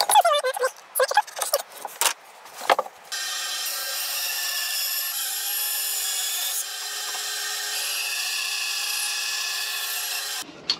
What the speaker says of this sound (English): I think I'm just going to cut a shape in there just to then cut it out on the bandsaw